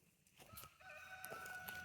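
Chickens clucking and crowing nearby, a few drawn-out calls and short clucks rising over quiet background noise.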